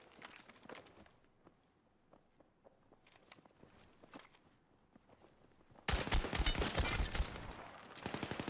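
Gunfire in the shooter Call of Duty on Rebirth Island, first as faint scattered shots and footsteps, then a sudden loud, dense burst of rapid automatic fire near the end.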